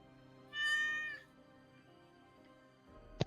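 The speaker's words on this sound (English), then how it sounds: "the cat interjects" A cat gives one clear, rising-then-falling meow, close and fairly loud against a quiet room, followed by faint background noise and a short thump at the end.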